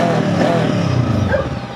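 The FKM ARY 500 two-cylinder motorcycle engine with a stainless exhaust rumbles steadily and loudly up close, idling with a deep, continuous throb and no voices over it.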